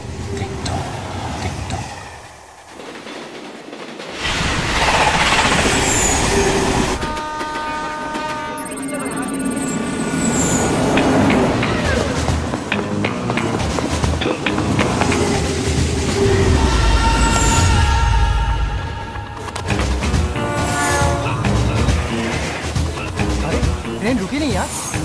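A train rolls loudly past a platform without stopping, its rumble and clattering wheels continuous for about twenty seconds, with a horn-like tonal blast midway while people talk over the noise.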